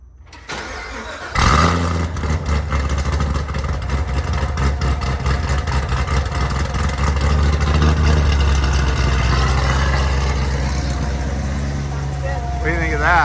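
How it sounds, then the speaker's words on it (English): A 1,000-horsepower 2019 Chevrolet Corvette engine fires up after a brief quiet moment, then settles into a loud, steady, rumbling idle through its exhaust, close by, with voices talking over it. "you know how to change the exhaust sound? We're gonna show them the quiet and the loud"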